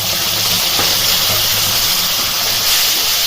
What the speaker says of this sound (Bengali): মশলাটাকে একটু ভালো করে ভেজে নিতে হবে